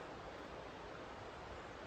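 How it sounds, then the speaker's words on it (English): A river at Dulnain Bridge flows quietly over rocks, producing a soft, steady, continuous rush that stays faint and even throughout, with no voices. "I can hear the river."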